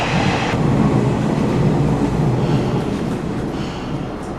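A single-car train in rural Kochi, Japan rumbles along steadily with a broad, rushing roar and faint rhythmic rail clatter, loud and close, gradually easing slightly toward the end.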